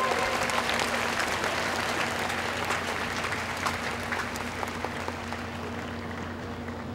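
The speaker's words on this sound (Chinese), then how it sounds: "请各位同学给刘会长再一次最热烈的掌声" Sustained applause from a graduation ceremony audience, a dense and steady clapping wash from a large crowd that holds at an even level throughout.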